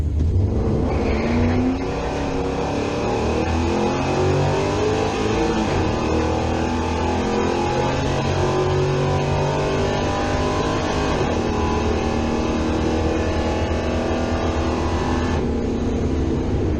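The Filthy Falcon, an old-school budget Ford Falcon project car, runs with a loud, rough engine close by, revving repeatedly with rising and falling pitch over a steady rumble.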